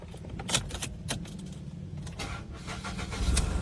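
A 2019 Ford EcoSport engine starts with one quick crank and catches, then settles into a close, steady idle. A faint jingle of keys comes before the start.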